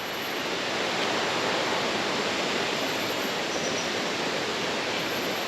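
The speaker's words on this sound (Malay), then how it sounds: "Ni sungai. Di sini dah nampak dah sungai." Steady broadband rush of a river flowing beside a campsite at Batu Kurau, continuous and fairly loud, with no voices over the water.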